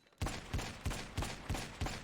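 Six evenly spaced shots from a police duty pistol in a video game, each a sharp close crack with a short tail, fired in a steady rhythm about a third of a second apart.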